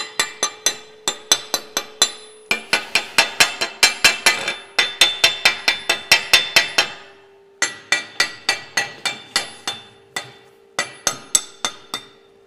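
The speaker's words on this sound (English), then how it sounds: "So I'm gonna go ahead and chip my slag" Slag is chipped off a plate weld with sharp, ringing metallic taps in quick bursts of several strikes, close and clear with short pauses between runs and no talk.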